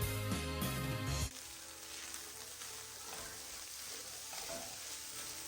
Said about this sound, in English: I'm going to fry it very well without adding any oil to it because the corned beef has a lot of fats in